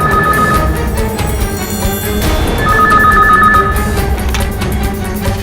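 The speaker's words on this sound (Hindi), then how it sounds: "इस वक्त कौन फोन कर रहा है?" A telephone rings in repeated electronic trills, two clear bursts over a continuous loud background of music.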